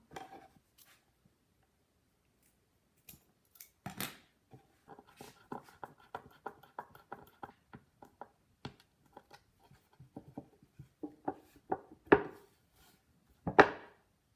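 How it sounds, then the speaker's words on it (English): Knife cutting leather straps for a homemade shield: a run of short, close scraping and slicing strokes in an irregular rhythm, with a few louder knocks near the end and no voices. "So for the leather, I'm going to cut it 32 centimeters long."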